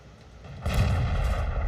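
A tank gun fires in World of Tanks from a Ru 251 light tank, a loud booming blast that swells and rumbles on for over a second with no talk.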